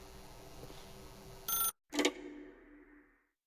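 Telephone ringing in The Stanley Parable: a short, bright electronic ring burst, a pause, then a second ring that fades out into silence over quiet room ambience.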